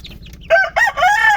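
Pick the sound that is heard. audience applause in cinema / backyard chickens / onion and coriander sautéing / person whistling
backyard chickens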